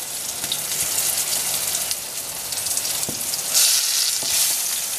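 Fish fries in a pan over medium heat with a steady, bright sizzle and crackle, rising briefly louder as the pieces are flipped; close and continuous with no talking.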